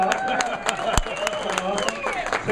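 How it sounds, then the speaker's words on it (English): Audience applause at a PDX LAN gaming event: steady clapping from a crowd, fairly close and continuous, with a voice speaking over it. "That's more applause."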